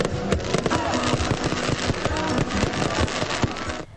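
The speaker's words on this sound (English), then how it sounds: "A sense of good tidings ushering in the new year as skies lit up with fireworks" New Year's midnight fireworks bursting over a city, a dense, continuous barrage of crackling pops and booms at a distance that fills the whole stretch, then cuts off abruptly at the end.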